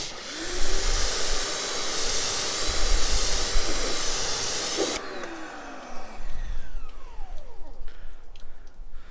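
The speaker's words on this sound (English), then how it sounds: "let's go ahead and hit it with the pressure washer" Pressure washer spraying water onto a car's painted panels, a loud steady broadband hiss that cuts off midway, followed by quieter running water and dripping as the spray stops.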